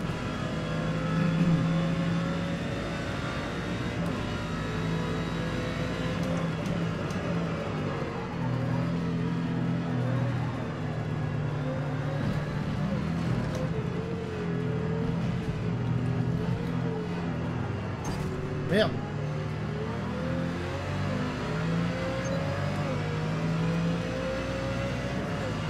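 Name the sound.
race car engine accelerating in Forza Motorsport video game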